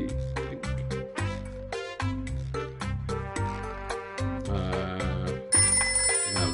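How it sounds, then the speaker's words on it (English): A telephone rings loudly and repeatedly in a quick electronic trill pattern, with a higher sustained beep layered over the end, with no one talking. "Phone ringing this time for me."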